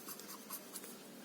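Handwriting with a pen during a maths lesson, soft scratchy strokes in short bursts, close and fairly faint, with no talk over it.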